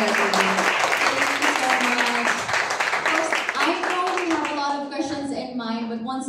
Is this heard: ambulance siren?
no